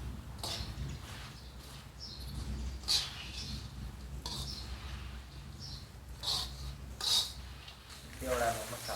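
Puffed rice is stirred through hot tempering oil in a pan while making chevdo, giving a soft, continuous rustle and crackle broken by several sharper scraping bursts, with a faint voice-like sound near the end.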